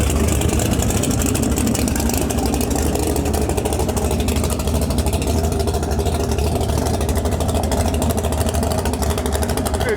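A drag racing car idles and runs at a dragway, its steady, loud engine drone with a deep low throb filling the whole stretch without a break.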